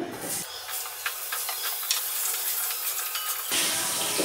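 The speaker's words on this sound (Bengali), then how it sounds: "এবার আমি এই তেলে দিয়ে দিচ্ছি কেটে রাখা আলুগুলো।" Cut potatoes hit hot oil in a home kitchen pan and fry with a steady, bright sizzle and spatter, loud and close, with no talking.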